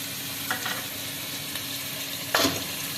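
Spice masala with onion paste fries in a pan under a constant low sizzle, and two quick scraping strokes of a spoon stand out, the second louder.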